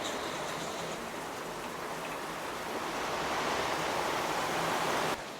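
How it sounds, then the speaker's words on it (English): Steady broadband hiss of light rain falling, constant and fairly close, swelling slightly toward the end before cutting off abruptly. "There's a little bit raining."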